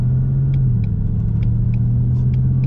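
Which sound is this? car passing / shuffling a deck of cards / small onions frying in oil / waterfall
car passing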